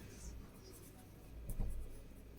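Pen or pencil scratching on paper during a class 5 math lesson, faint and close, with a few soft strokes and a slightly louder burst midway, no talking.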